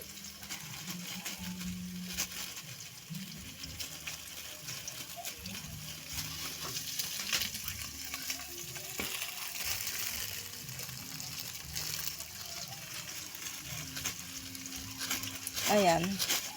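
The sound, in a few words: shrimp frying in margarine in a pan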